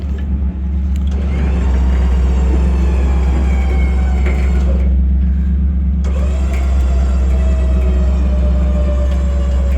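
A wrecker tow truck straining to pull a stuck trailer, its engine holding a loud, steady drone with revving rises throughout, close and continuous with no talk.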